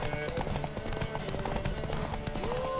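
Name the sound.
horse hooves galloping in video game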